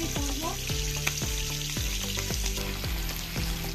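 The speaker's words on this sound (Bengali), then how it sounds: "মাছগুলোকে আমি একটু এপিট ওপিট করে ভালো করে লাল লাল করে ভেজে নেবো" Rohu fish frying in mustard oil in a non-stick pan, a loud, steady close-up sizzle with repeated soft knocks and scrapes as the pieces are turned, no voices.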